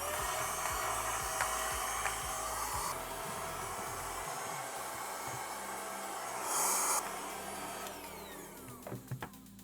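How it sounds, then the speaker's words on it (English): A steady, close vacuum cleaner roar runs throughout, with brief shifts in pitch and a few bumps as the nozzle moves over a PS3 wireless headset, picking up cat hair. "I wanna vacuum up some of this cat hair"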